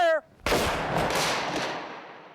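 A Civil War breech-loading cannon fires once with a sudden loud boom that rolls and slowly fades over about two seconds, preceded by a brief shouted voice.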